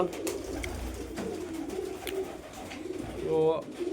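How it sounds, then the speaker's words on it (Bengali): Pigeons coo in their coop among nest compartments, soft rolling calls repeating at an unhurried rhythm, with one louder, fuller coo near the end. "কাকার তেজি পায়রা দেখতে পাচ্ছ বন্ধুরা"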